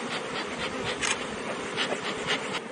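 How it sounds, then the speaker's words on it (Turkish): Honeybees in a hive at the start of the honey flow hum in a dense, continuous buzz, close and fairly loud, with individual bees briefly passing nearer and no talking. "Şu an işliyor arı o balı."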